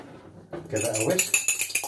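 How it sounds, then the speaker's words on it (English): A whisk beats an egg in a bowl for chocolate raspberry cupcake batter, quick close metallic clinks and scrapes against the bowl in a fast rhythm after a short quiet start. "Give it a whisk"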